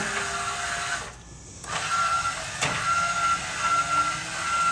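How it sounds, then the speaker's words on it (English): Electric stabilizer jacks on an RV run with a steady motor whine and faint tonal hum, broken by a short pause and a brief click partway through. "And you got your stabilizer jacks that you can extend and control from here."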